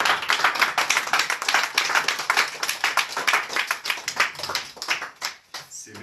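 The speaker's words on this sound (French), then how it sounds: "On applaudit le Seigneur." Church congregation clapping in praise, a loud, brisk run of many hands beating close together, thinning out and fading near the end.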